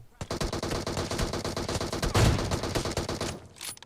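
Rapid automatic gunfire in the mobile shooter BGMI, a dense, fast-repeating burst of shots that runs almost continuously for several seconds at steady loudness, close and punchy.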